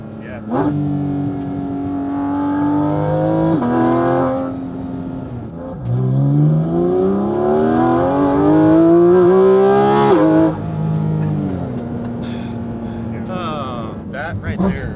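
Porsche 997.2 GT3 RS with a Dundon plenum and tune, heard from inside the cabin as the engine revs climb in strong, rising sweeps with gear changes between them, loud and close while people talk over it.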